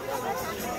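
Crowd hubbub at the Dwarahat fair, a dense wash of many overlapping voices and general chatter, steady and close with no single voice standing out.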